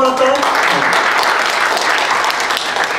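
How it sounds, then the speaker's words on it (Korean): A church congregation breaks into applause, a dense, even wash of clapping from many hands that carries on steadily, with a voice briefly heard at the start. "박수 한번 할까요?"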